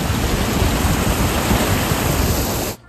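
A waterfall uncovered by low water levels at a reservoir dam near the lost village of Derwent pours with a loud, steady rushing roar up close, cutting off abruptly at the end, with no voices.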